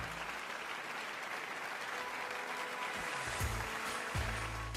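Recorded crowd applause plays for a Christmas in Sunderland launch event: steady, dense clapping that holds at an even level throughout, with no voices over it.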